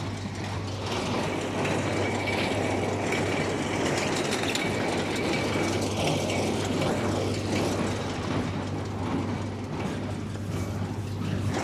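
An old square baler bales thick, heavy hay in a field, a loud continuous mechanical clatter with a rhythmic ratcheting, gear-driven chatter over a steady low tractor hum.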